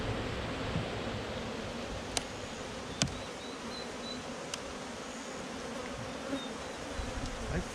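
Honey bees buzz around an open hive, making a dense, steady hum of many wings close by, with a few faint ticks and rustles over it and no talking.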